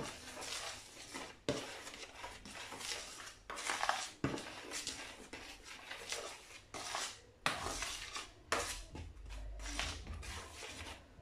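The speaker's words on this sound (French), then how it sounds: "Voilà, je mélange bien." Tuna fritter batter being mixed in a bowl, faint clinks and scrapes of a utensil against the bowl in an irregular stirring rhythm, quiet and close with no talk.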